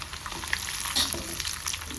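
Flattened rice (avalakki) frying in hot oil, a steady crackling sizzle with scattered pops, close and fairly soft, no voices.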